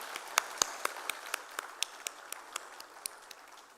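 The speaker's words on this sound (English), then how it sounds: "Can I have a huge round of applause for Prashna ma'am?" Sparse, scattered claps from a small audience at an awards felicitation on stage at a business chamber knowledge summit, about a dozen separate hand claps spread unevenly and moderately close, with no talking over them.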